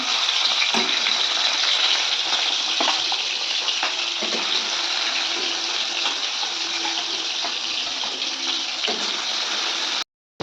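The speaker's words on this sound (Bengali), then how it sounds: "আর এদিকে পেঁয়াজটা একটু ভেজে নিচ্ছি, নেড়ে দিলাম।" Onion frying in oil gives a loud, steady, close sizzle with a dense crackling hiss that runs almost unbroken for ten seconds before cutting out abruptly, with no talking.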